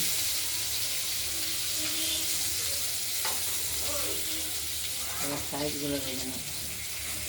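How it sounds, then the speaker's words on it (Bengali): Pointed gourds (potol) fry in oil in a pan while being turned one by one, giving a steady, close sizzling hiss with a few soft scrapes and faint voice-like sounds underneath. "পটলগুলোর মুখগুলো আগে প্রথমে ভেজে নিলাম, প্রত্যেক কটা উল্টে উল্টে।"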